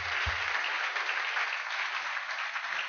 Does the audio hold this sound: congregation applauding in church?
yes